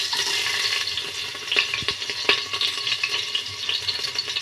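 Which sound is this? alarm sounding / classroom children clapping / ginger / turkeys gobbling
ginger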